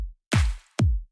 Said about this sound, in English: let me add some of the percussion that I have over here